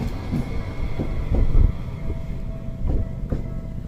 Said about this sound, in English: Maneki Neko train for the third time.